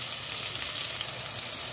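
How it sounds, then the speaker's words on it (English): Onion frying in a pan for a ladyfinger curry, a steady close sizzle of crackling oil that holds at an even level throughout with no voices. "So now I'm going to fry these onion into the same pan. So here I'm frying my onion."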